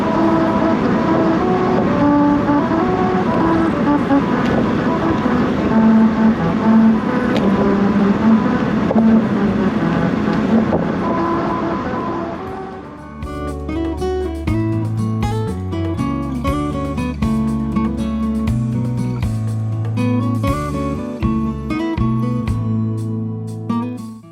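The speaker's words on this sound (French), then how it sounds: "On a roulé sur une route musicale." A car rolls over a musical road in Hungary with steady tire rumble, then a rhythmic run of distinct, evenly spaced tones rises from the grooved pavement and plays a short melody to the end.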